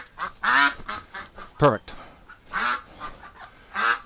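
Ducks in a pen quack and honk loudly while being caught in a corner, several harsh calls at irregular intervals, close by, with a person speaking briefly between them.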